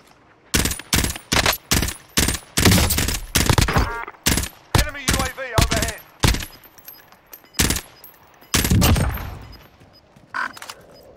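Gunfire in Call of Duty Warzone, loud rapid bursts of automatic fire and single sharp cracks in irregular clusters, with brief gaps and some faint voice between shots.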